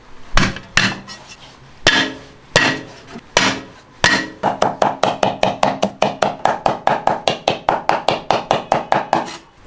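Ginger and garlic chopped with a knife on a board: a few separate heavy chops, then a fast steady run of about two dozen even, close, loud blows with no talk.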